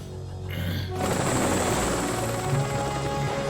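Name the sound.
helicopter flying in Ben 10 cartoon episode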